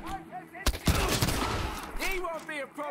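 A double-barreled shotgun fires in a video game with a sharp, loud blast and a short rumbling tail, while someone talks before and after the shot.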